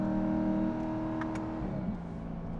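A C8 Corvette with a titanium catback exhaust, valves closed, hums as a low, steady, muted drone heard from inside the cabin, easing slightly in pitch partway through with no talking.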